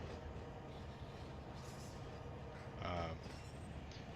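Railcars in the Run 8 train simulator game clank through slack action, with a steady low rumble of rolling stock and one louder metallic bang of couplers bunching near the end, fairly faint overall.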